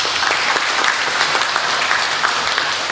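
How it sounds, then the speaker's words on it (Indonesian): Applause from an audience of school heads, teachers, supervisors and education officials at a regency government event, a loud, even burst of many hands clapping throughout with no talk over it. "Tepuk tangan."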